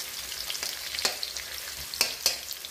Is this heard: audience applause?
no